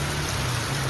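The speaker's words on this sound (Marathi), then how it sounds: "पावसाळ्यात पावसाचं आगमन." Monsoon rain falls steadily in a dense, even hiss across the whole second, loud and close with no pauses or voices.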